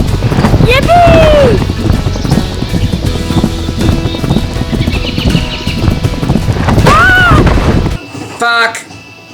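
A horse gallops with rapid clip-clop hoofbeats in the PS3 game Hannah Montana The Movie, loud and continuous, with game music and a couple of whinny-like cries; a person shouts over it.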